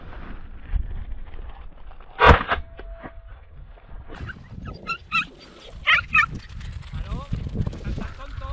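Podencos on a rabbit hunt in open country give short yelps and barks in separate bursts, with one sharp loud cry near the start and later clusters of yips, while men call out and talk nearby.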